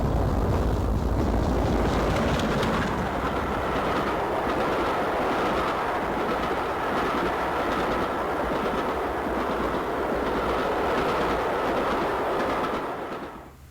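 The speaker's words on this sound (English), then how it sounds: "Passing through the station is a 13-coach express passenger hauled by one of the GWR's" A 13-coach express passenger train hauled by a GWR Castle class steam locomotive passes through a station, a loud, steady rumble of wheels and coaches with faint clickety-clack that holds throughout, then drops away at the end.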